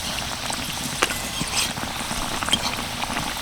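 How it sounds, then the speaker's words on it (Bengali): Twist rolls sizzle and bubble as they fry in hot oil over medium heat, a steady crackling fry with small pops, close and moderately loud, no talking. "এবার আমি একটা একটা টুইস্ট রোল এই তেলের মধ্যে দিয়ে দেব"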